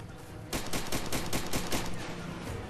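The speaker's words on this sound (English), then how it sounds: "You're shooting at me with a pistol." Rapid pistol gunfire in the video game Far Cry 2, a dense run of sharp, loud shots that begins after a brief quiet moment and continues steadily until the end.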